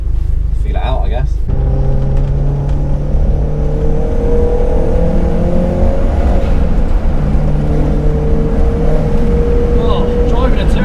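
A turbocharged Cupra accelerates hard on a race track, its engine note climbing steadily through the revs as a loud, continuous in-car drone with rumbling road noise, after a short burst of people talking at the start.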